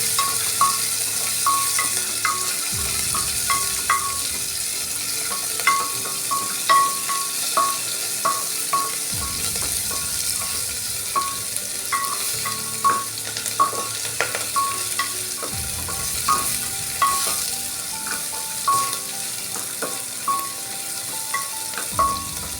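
Onion sautéed in a pan for masala rice, with a continuous sizzle under repeated metallic scrapes and taps of a spatula, steady and close, with no one speaking.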